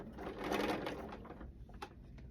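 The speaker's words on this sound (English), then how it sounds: "I'm sewing one end and then I'm going to sew the other end" A home sewing machine runs a lengthened straight stitch along the end of a fabric bandana, a quick steady mechanical whirring that slows and stops, followed by a few faint clicks.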